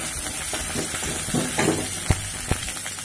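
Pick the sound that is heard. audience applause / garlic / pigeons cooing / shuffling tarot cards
garlic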